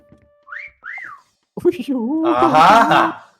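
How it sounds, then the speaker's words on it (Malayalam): Two short rising-falling whistle tones sound in a multiplayer paintball-style hide-and-seek video game, followed by excited overlapping voices talking loudly. "വലിയ വിസിലാണല്ലോ ആ സൈഡിൽ കേൾക്കുന്നേ."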